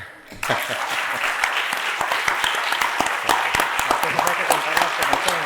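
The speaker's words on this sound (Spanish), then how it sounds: "si eso no se merece un aplauso" An audience breaks into loud, dense applause after a talk by Javier Sierra about his book El mensaje de Pandora. The clapping starts abruptly and then holds steady and full for several seconds.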